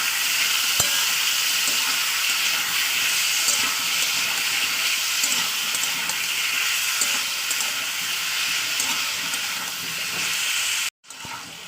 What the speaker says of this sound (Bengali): তো এটাকেও ভালো করে তেল করে ভাজা করে দেবো